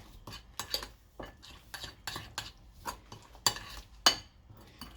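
Potatoes being tossed with Cajun spices in a pan, with repeated metal spoon scrapes and clanks in a loose rhythm, quiet and close with no talk.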